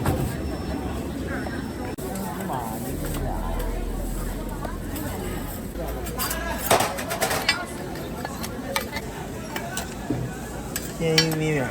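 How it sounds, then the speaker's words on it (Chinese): Cornmeal cakes pan-frying at a street food stall in Hainan, China, a steady low sizzle mixed with scraping and clinking of utensils against the pan, with busy street background noise around it. "煎玉米面， 这等我再煎一会儿是吧？"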